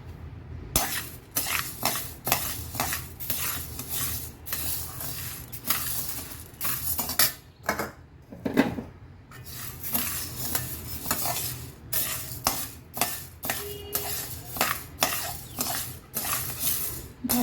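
Wheat grains dry-roasting in a pan for thalipeeth bhajani flour, a spatula scraping and stirring them with rapid rattling clinks and soft sizzles, continuous and close.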